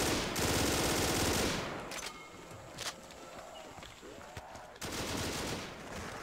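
Gunfire in Call of Duty custom zombies, bursts of rapid automatic shots at the start and end with quieter shuffling and brief pops between.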